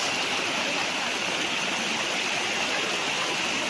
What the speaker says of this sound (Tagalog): Tingnan natin ang bukal.